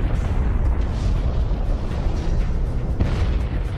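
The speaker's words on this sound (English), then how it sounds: "the explosion of a Type II supernova showers the universe with heavy elements" A deep, sustained explosive roar stands in for a Type II supernova in a space documentary, loud and continuous with rumbling low end and a sharper burst near the end.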